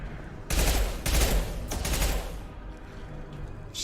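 Rapid automatic gunfire in the video game Mass Effect Legendary Edition, three loud sustained bursts in quick succession, then a quieter tail.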